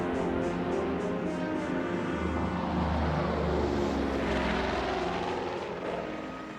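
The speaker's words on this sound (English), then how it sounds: "Daryl and the others take off from Thule" A Caribou propeller aircraft takes off from Thule, a loud continuous droning roar of engines and propellers that swells and then slowly fades.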